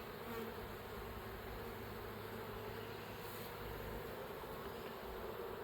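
Agitated bees buzz in a rescued hive that has just been disturbed during an inspection. A dense, continuous insect hum carries steadily throughout at low, close-up level, with no voices.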